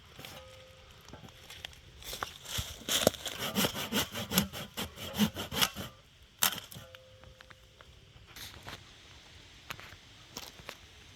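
Wood being sawn by hand outdoors in Portugal, a quick run of rhythmic rasping strokes that pause, then resume in a few scattered strokes, fairly close.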